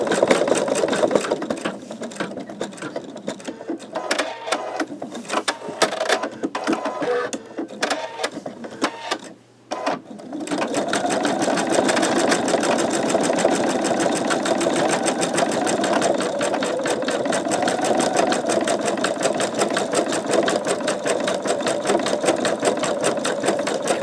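Embroidery machine stitching a sugar skull design in gold-copper thread, a steady rapid mechanical whir that runs nonstop. It is uneven and choppy for the first ten seconds, then settles into a loud, even, continuous drone.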